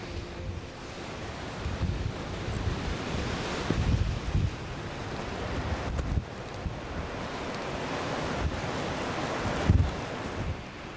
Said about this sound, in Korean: 육지는 봄이지만 불업도는 아직 바람이 세고 춥습니다.